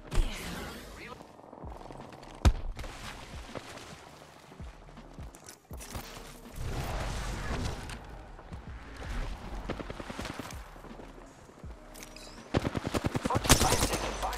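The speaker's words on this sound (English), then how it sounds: "I am taking fire, friends." Gunfire during an Apex Legends match, with rapid automatic bursts and scattered shots at moderate level and a louder sustained volley near the end, mixed with game effects and a voice speaking.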